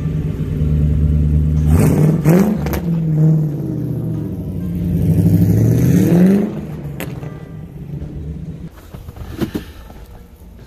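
1967 Ford F-100 pickup driving and revving, with loud engine rumble rising and falling through a couple of gear changes, then easing off to a quieter cruise; a brief murmur of voice is heard.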